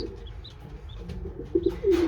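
Racing pigeons and their young cooing softly in a loft, a few gentle low coos and brief calls close by, with a short flutter at the end.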